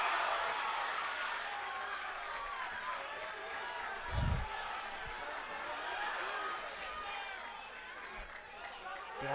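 Crowd at a combat sports bout in the Rockland GAA, Sean Tan versus Jack Blomgren, roaring with steady cheering and clapping throughout, a loud sustained wash of noise with a brief low thump near the middle.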